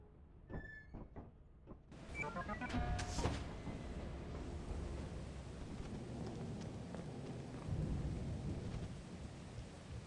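Thunderstorm in the video game Lethal Company: a few short game clicks and beeps lead into a sharp thunderclap, then steady heavy rain with rolling rumble continues throughout.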